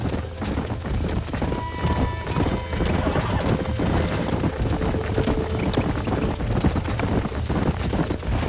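Horse hooves clip-clop steadily with occasional snorts and whinnies, mixed with background music and faint talk, in the video game Red Dead Redemption.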